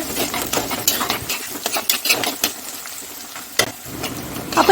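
Onion, garlic, ginger and green chili sauté in a pan as a close, crackling sizzle broken by uneven scraping and stirring strokes, some sharp and loud, with quieter gaps between them.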